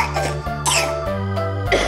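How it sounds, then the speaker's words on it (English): A woman coughs several times in a rough, rhythmic series of harsh bursts, close and fairly loud, with a low steady hum underneath. "And mommy's coughing too."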